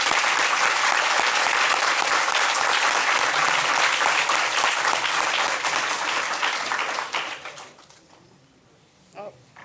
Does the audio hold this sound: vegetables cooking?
no